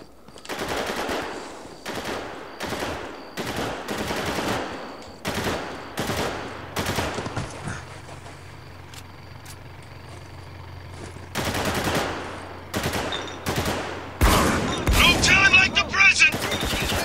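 Heavy hand cannon gunfire in Spec Ops: The Line, loud booming shots in bursts and rapid volleys, separated by brief quieter gaps with a low hum.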